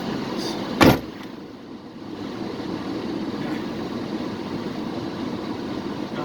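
A single solid thump of a car door shutting, close by, followed by a steady low hum of engine or road noise.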